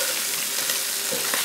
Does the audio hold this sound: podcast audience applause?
no